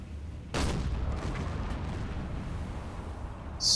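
A shell from a deck gun splashes into the sea in Silent Hunter 4, set during a WWII Pacific submarine patrol aboard USS Salmon: one sudden heavy boom, then a long rumbling wash that holds steady, with a sharp hiss near the end.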